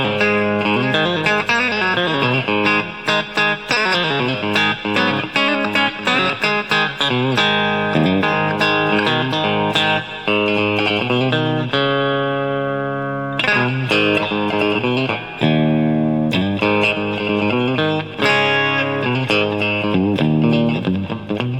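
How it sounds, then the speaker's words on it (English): A Harley Benton MAX Fusion electric guitar runs through compression and effects with hot pickups, playing fast, punchy, compressed phrases of rapid picked notes and bends, loud and close with no talking. "And these pickups push hard. I got some compression on"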